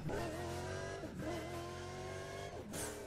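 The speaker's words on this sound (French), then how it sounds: "T'entends trop le moteur." A Bugatti Veyron engine in the racing video game Need for Speed: Undercover roars loud and close, rising in pitch, briefly dipping at gear shifts, then climbing again.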